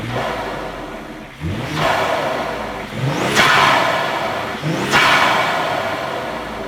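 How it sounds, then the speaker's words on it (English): Twin-turbo Ford Explorer fitted with a cold air intake, engine revved repeatedly with turbo whoosh, three or four rising roaring pulls that drop off between, loud and close with no talk. "it also gives you an absolutely incredible sound that you will hear with the lid removed because of these turbos"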